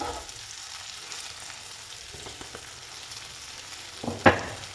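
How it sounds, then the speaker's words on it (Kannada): Masala with crushed cinnamon frying in a hot pan, a steady close sizzle with faint stirring scrapes and a sharp clatter of the spoon near the end. "ಹಾಕ್ಬಿಟ್ಟು ನೀಟಾಗೆಲ್ಲ ಮಸಾಲೆನ ಫ್ರೈ ಮಾಡ್ಕೋಬೇಕು"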